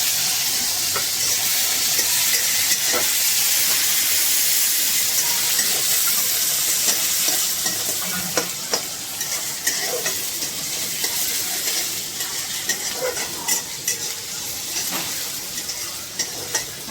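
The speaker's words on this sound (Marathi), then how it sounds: "कांदा आपल्याला टाकायचा आहे लाल करून घ्यायचा आहे" Onion frying in oil with mustard and cumin seeds, a steady dense sizzle throughout with occasional pops and light spoon scrapes against the pan, close and continuous without any voice.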